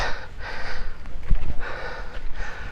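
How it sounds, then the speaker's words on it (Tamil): Heavy, rhythmic breathing after climbing a hill during a full-moon trek, several loud breaths close to the microphone with rustling footsteps and outdoor noise. "ஆனால் மூச்சு வாங்குது."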